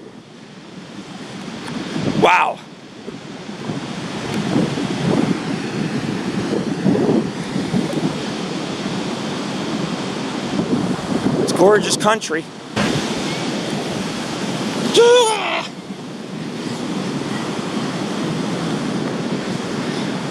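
Surf at San Gregorio Beach, California rolls in with a steady broadband wash and heavy wind buffeting the microphone, punctuated by a few louder gusts; people talk briefly over the roar.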